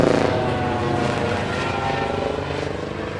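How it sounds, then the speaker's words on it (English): A helicopter's rotor thrums loudly and steadily overhead, a dense low throbbing roar that fades slightly as it passes. "that was a helicopter."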